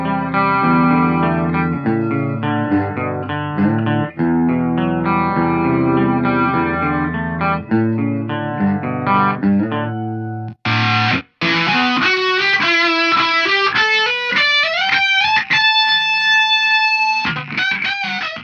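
Electric guitar riff played by a beginner through a distortion pedal, loud and sustained with dense harmonic chords, a brief cut near the middle, then a brighter, effects-heavy lead run of rising notes.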